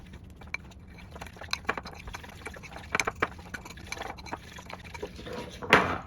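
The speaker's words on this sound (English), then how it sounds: "So we're just going to get that butter, cocoa, sweetener, and almond flour mixed in." A fork stirs butter, cocoa, sweetener and almond flour in a bowl for a keto lava cake, giving soft, irregular wet scrapes and clicks with a sharper clatter near the end.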